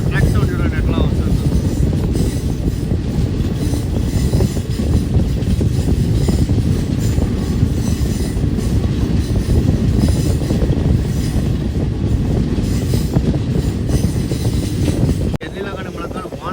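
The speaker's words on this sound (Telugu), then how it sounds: "ట్రాక్ సౌండ్ చూడండి ఎట్లా వస్తుంది" A Garib Rath superfast express runs on its tracks through forest, giving a loud, close, continuous rumble with rhythmic wheel clatter and occasional squeal. The sound drops slightly near the end.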